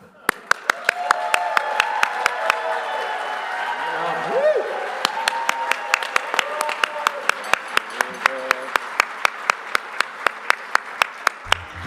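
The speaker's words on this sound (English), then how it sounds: "And cue the largest, loudest applause of all time" Loud, sustained audience applause at a STEM conference event, a dense wash of clapping with regular sharp percussive hits running throughout, while voices murmur and talk faintly underneath.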